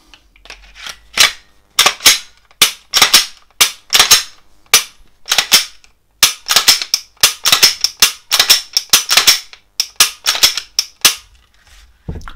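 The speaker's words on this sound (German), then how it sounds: "Dann können wir die Waffe wieder zusammensetzen." Glock 17 Gen 4 pistol reassembled by hand after a firing pin spring swap, with a long run of crisp, close metallic clicks and snaps in irregular bursts.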